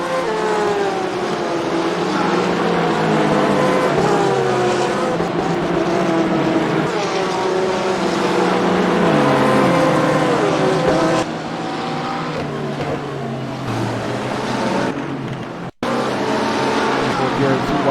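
GT3 sim race cars, a Porsche among them, running nose to tail at Circuit Zandvoort, loud continuous engine roar with shifting pitch and overlapping motors under a commentator's voice.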